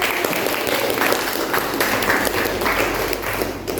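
Classroom of students applauding together, a dense, steady patter of many hands clapping at close range that holds for several seconds before tapering slightly at the end.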